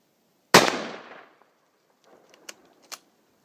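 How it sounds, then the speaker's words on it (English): A single loud rifle shot fired at a target 100 yards away cracks sharply outdoors and decays over about a second, followed by faint scattered clicks. "going to take 3 shots from 3 different positions"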